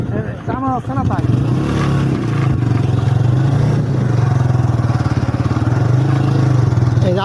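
A motorcycle riding along a road, its engine a steady low drone with a rapid pulsing throb that holds loud and close throughout, with a voice briefly heard over it near the start.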